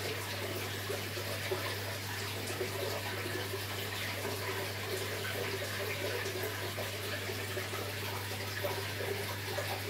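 Continuous rushing of water pouring steadily into an aquarium tank during a water change, even and close, with a low hum underneath and no talking.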